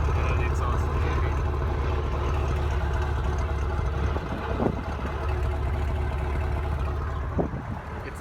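A 2015 Chevrolet Camaro SS V8 with full bolt-ons and a heavy exhaust idles steadily in a low, even rumble, with a couple of faint clicks over it.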